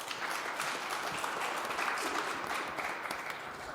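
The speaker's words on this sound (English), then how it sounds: "A round of applause for them, please." Sustained applause from a conference audience thanking a panel of speakers at a Mobile World Congress session, a dense, steady wash of many hands clapping throughout.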